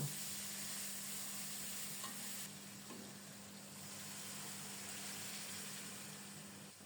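Bottle gourd tipped into hot oil tempered with a dried red chilli and whole cumin, a steady broad sizzle with a few soft stirring scrapes in the pan, fairly close, no one talking.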